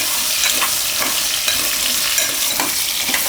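Chopped pumpkin frying in oil with asafoetida for a Gujarati pumpkin shaak, with a loud, steady sizzle up close and repeated stirring and scraping strokes, and no voices.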